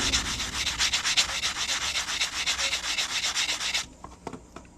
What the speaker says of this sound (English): This is just like a nail file block. It's a little easier to use than sandpaper.